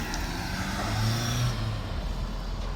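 A turbodiesel truck drives off nearby, its engine rumbling low and steady with a brief rise in revs before the sound begins to ease as it pulls away.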